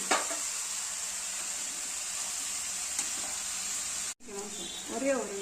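Fenugreek leaves sauté with chickpeas in a pan for a pulao, giving a steady close sizzle that cuts out briefly near the end. A voice then talks over the frying.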